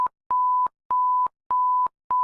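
Fake emergency alert system alarm tone: a steady, loud electronic beep pulsing on and off in a regular rhythm, each tone lasting about a third of a second with short gaps, sounding alone without any talk.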